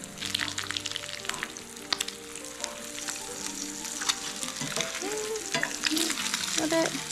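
Food sizzles steadily in a hot pan, with crackling pops and occasional scraping as it is turned, close and continuous, with no one talking.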